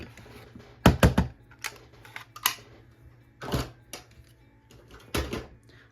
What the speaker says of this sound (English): Oh, we're not done with our trimmer because I gotta trim this off.